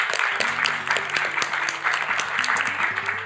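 Audience applause at a political speech on women's sports, a full, even roar of clapping that runs throughout, with a faint tonal hum underneath.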